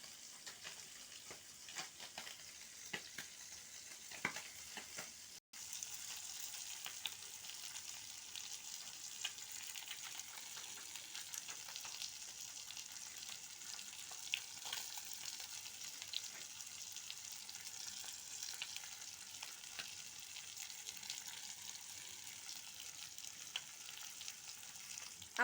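Bengali-style fish fry cooking in a pan of oil, a faint, even sizzle running steadily throughout with a brief cut partway, no voices.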